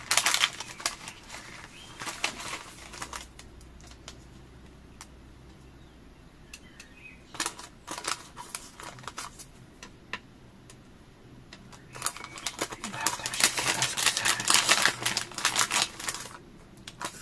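Scissors cutting paper for an art-journal collage, bursts of crisp snipping and rustling close by, busy at the start and again near the end with a quieter stretch between, no talking.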